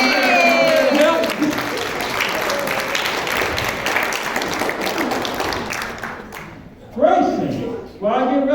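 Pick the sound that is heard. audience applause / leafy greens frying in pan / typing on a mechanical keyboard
audience applause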